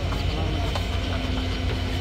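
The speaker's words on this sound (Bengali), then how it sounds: "ট্রেনটি তার নির্ধারিত সময় ঠিক সকাল 7টায় পৌঁছে গেল তার প্রথম যাত্রাবিরতি স্টেশন" Titumir Express train pulling into Abdulpur Junction, a steady low rumble of rolling wagons with faint rail clatter, continuous and moderately loud without speech.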